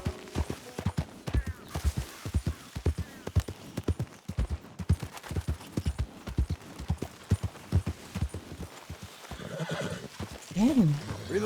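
A herd of horses in the game Red Dead Redemption 2, with dense, rapid hoof clip-clops drumming steadily nearby, then a loud neigh and whinny rising near the end.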